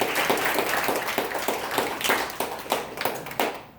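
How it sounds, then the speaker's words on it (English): An audience at a book launch claps, a burst of many hands with distinct individual claps standing out, fairly close and loud, tapering slightly toward the end. "give her a big, big, big round of applause"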